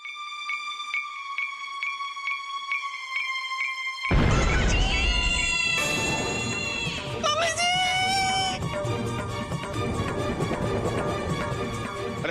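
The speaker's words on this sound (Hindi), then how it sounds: "अरे बहू बेटा, ये चीख की आवाज कहाँ से आई?" A scream in a scene from a Hindi TV serial breaks in suddenly over steady tonal music, with loud crashing noise and a rising, wavering cry, then continues under busy background sound.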